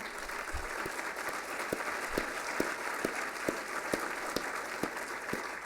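Moderately sized audience at an academic update conference applauding, a steady patter of clapping with a few distinct nearby claps standing out rhythmically, fairly soft and even with no talk.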